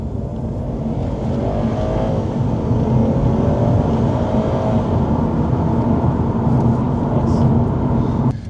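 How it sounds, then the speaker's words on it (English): A 2012 Subaru Impreza WRX STI A-Line automatic engine pulls hard and steadily under acceleration, with a rising turbo whistle over the loud drone, close up. "You can hear the turbo spooling away."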